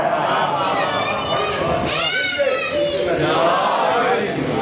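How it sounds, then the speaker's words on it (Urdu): Children chanting slogans together at a religious majlis gathering in Multan, a continuous crowd of young voices rising and falling in rhythmic calls, steady and fairly loud throughout. "دیکھیں بچے نعرے لگا رہے ہیں"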